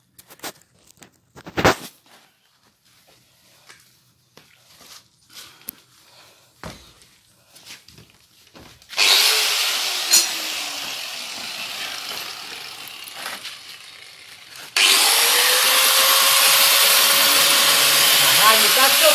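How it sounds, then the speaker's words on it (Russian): An angle grinder cuts off bolts on a LuAZ 968 car in a loud, harsh whine that begins after scattered clanks and handling noises. It keeps going for several seconds, pauses briefly, then grinds again even louder. "Сейчас будем болгарочкой отпилим прямо на месте."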